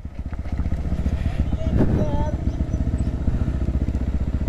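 A motorcycle that has tipped over, its handlebar knocked loose, idles with a rapid, steady putter in Manang, Nepal, revving briefly and growing louder near the middle before settling back.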